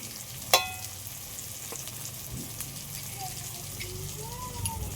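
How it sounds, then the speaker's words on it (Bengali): Spices and tomato frying in a pan, a faint steady sizzle with a sharp clink of a utensil near the start and light stirring scrapes, quiet and close. "টমেটোটা একটু ভালো করে ভেজে নিয়েছি"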